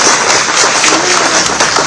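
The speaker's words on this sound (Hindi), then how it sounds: "जोरदार तालियों के साथ।" Loud, close clapping from a crowd, continuous and even over the short stretch.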